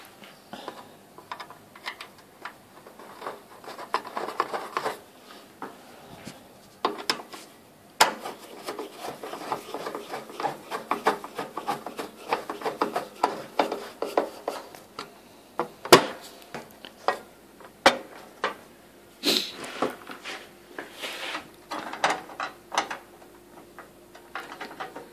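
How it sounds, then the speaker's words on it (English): Screws being driven in by hand while refitting a heater cable, a scattered run of faint ticking, rubbing and clicking clicks close by, with a few sharper knocks, and no talking. "Let's get some screws in there."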